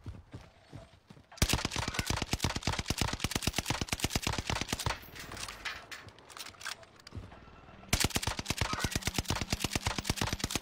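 Rapid submachine gun fire from a video game, with long bursts of evenly spaced shots, a short pause with quieter scattered sounds, then another loud burst near the end.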